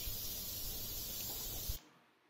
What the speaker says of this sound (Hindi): अब इसमें डालेंगे हम 1 चम्मच जीरा, जीरा तड़कने देते हैं।